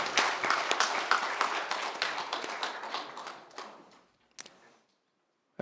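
A church congregation at a Sunday worship service breaks into loud applause, dense clapping that thins and fades out over about four seconds, leaving a few stray claps before silence.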